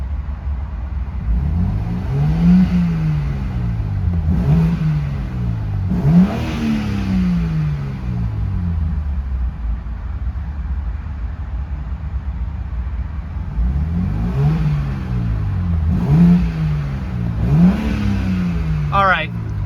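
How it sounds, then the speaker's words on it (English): A 2026 BMW M4 xDrive Competition convertible engine revs repeatedly, with sharp rises and falls in pitch separated by quieter idle stretches, loud and close. "Really like the sound of this vehicle."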